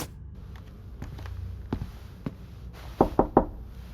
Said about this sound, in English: Should I knock on the door, or just listen for a while?